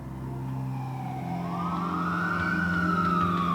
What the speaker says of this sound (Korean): 구급차는 캔자스시티에 있는 메디컬 센터로 디어드르를 후송했다